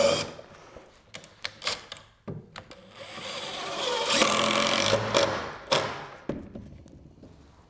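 A power tool drives long fasteners into IKEA kitchen cabinets, with short sharp bursts and clacks and then a longer loud whirring run mid-clip, followed by a few more brief hits.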